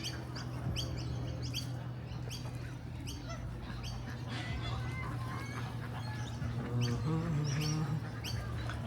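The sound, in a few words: ducks, pigeons and other birds in Parramatta Park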